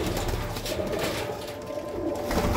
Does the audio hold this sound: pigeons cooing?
yes